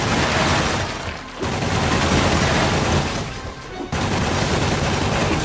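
Enemies in Marvel's Spider-Man video game fire loud sustained bursts of automatic gunfire, broken by two short pauses before the shooting resumes.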